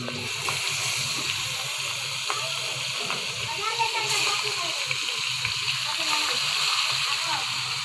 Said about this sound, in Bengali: এখন একে একে সব মাছ আমি তাওয়াতে দিয়ে দিব।